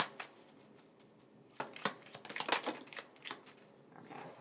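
Tarot cards are shuffled and one is pulled from the deck, a soft riffling flurry of card edges rising to a close, crisp burst before trailing off into a few light taps.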